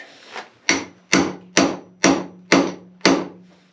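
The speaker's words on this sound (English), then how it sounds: "this one here might actually need a little bit of an adjustment with a hammer" Seven sharp hammer blows on a metal fitting on a hard-water-scaled plumbing fixture, struck close by in a steady rhythm, each a crisp ringing knock with a short decay.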